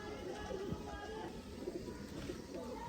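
Pigeons cooing softly in a breeder's loft, low repeated coos over a steady background hum, moderately close and fairly quiet.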